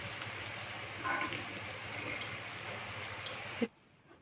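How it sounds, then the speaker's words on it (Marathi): Steady rain patters and hisses outside at a moderate distance, a continuous wash of droplets with a brief louder knock near the end before it cuts off. "मस्त बाहेर पाऊस चालू आहे"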